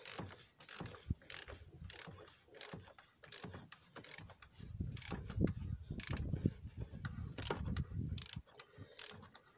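A ratchet wrench tightening the plastic oil filter cover on a Citroën 1.6 HDi diesel engine, rapid rhythmic clicking in close, repeated bursts with short pauses between strokes.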